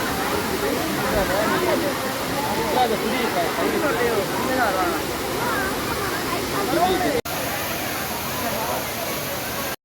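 Courtallam waterfall pours down in a loud, continuous roar of crashing water, with splashing and faint voices mixed into the steady rush throughout.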